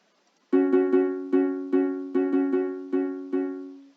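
Minecraft note blocks playing a cover of a tune from Zelda: Ocarina of Time: bright plucked tones repeat at a slow, uneven pace, roughly a dozen notes spread over several seconds after a brief silence, with no voices.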